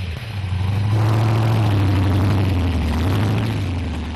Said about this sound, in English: the engine is just something unbelievable. To hear it grumble and rumble and listen,